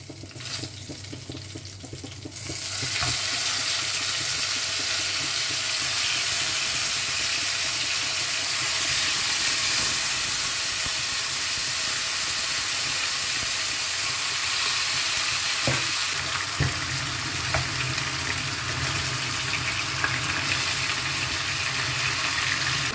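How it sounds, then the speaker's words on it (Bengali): Afghani chicken pieces frying in a pan, a loud continuous sizzle and hiss that swells after a quieter start and holds steady, with occasional faint clinks of stirring. "এটা আর 2-3 মিনিট ফ্রাই করব।"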